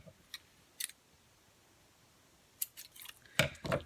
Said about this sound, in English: cut it, and maybe use a better scissors